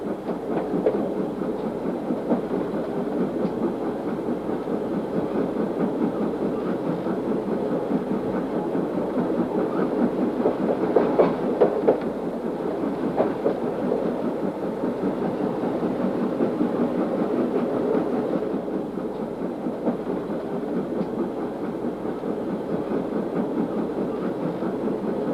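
Steam locomotives working hard as they haul a heavy train up Tumulla Bank in the mid-1960s, a steady, rumbling exhaust beat with rhythmic mechanical chuffing that holds constant and fairly loud throughout.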